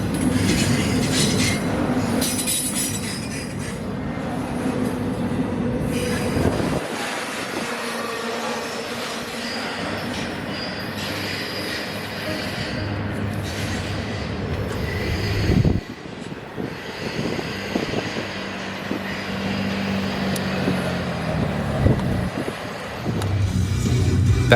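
Norfolk Southern freight train 289 rumbles past slowly under a 25 mph restriction in chilly weather, a long continuous roll of railcar noise with intermittent high wheel squeals, loud and close throughout.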